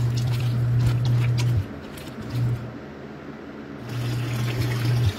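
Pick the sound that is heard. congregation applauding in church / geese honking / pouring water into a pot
pouring water into a pot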